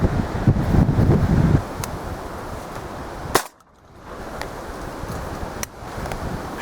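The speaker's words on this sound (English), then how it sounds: "Shot." A single sharp shotgun blast fired at pigeons over a maize field decoying setup, one loud crack midway through, heard amid gusty wind noise and rustling with no talking.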